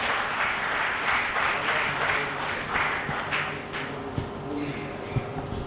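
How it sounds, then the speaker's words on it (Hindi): Steady, dense applause from a studio audience welcoming the winner of a computer quiz show mega final, continuous clapping with a few sharper claps standing out, and a voice speaking underneath. "जोरदार तालियों से स्वागत कीजिए"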